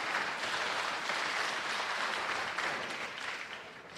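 Audience applause at the opening ceremony of a pharmacists' conference in Lagos, a steady dense wash of clapping sustained at even volume throughout, easing slightly toward the end.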